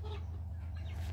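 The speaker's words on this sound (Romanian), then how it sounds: "Pe aici avem pui cei mari de găină." Farmyard chickens, larger young hens penned near pigeons, cluck softly in short scattered calls over a steady low hum, faint and at a modest distance, with no talking.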